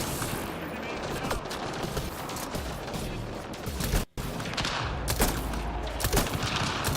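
Gunfire from a weapon in Mass Effect Andromeda, with dense rapid bursts of shots rattling almost continuously. There is a brief cut to silence midway, then the firing resumes loud and close.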